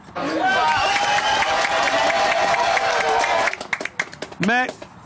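A television studio audience applauding and cheering for several seconds as one loud, dense wash of clapping over music and voices, then breaking off into a few scattered claps and a brief voice.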